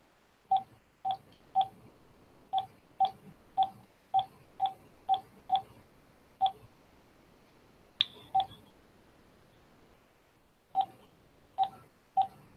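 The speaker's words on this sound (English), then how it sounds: "I think I will hang up and dial the number back" Telephone keypad tones while redialing a number, a series of short, distinct beeps in uneven clusters with brief gaps, fairly faint against a quiet background.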